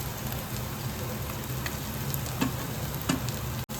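Grated raw mango with turmeric bubbling and frying in a pan, a dense continuous sizzle like light rain with occasional small pops and a faint clink near the end, without any speech.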